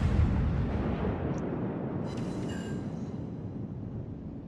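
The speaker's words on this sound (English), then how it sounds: "now I open up fire on this enemy ship, trying to set fires on him from long range" Battleship guns fire at an enemy ship from long range in World of Warships, a heavy, deep rumbling boom that swells at the start and slowly rolls away, with no voices.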